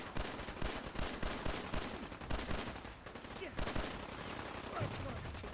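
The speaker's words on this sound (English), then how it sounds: "I love how these guys are just shooting" Dense, continuous gunfire from a firefight in Fallout 4, with repeated bursts and scattered shots layered over one another at a steady, loud level, and a voice heard faintly in the background.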